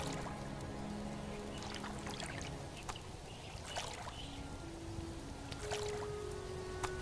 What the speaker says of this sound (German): Gut, ich habe gegossen.